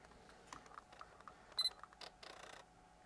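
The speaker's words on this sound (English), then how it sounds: "you're gonna hear the actual lens trying to gain focus, and you hear the beep to confirm it caught focus" A Sigma lens mounted on an MC-11 adapter gives off faint, stuttering mechanical clicks and ticks as autofocus hunts, then a short high confirmation beep sounds once; quiet and close, with no talk.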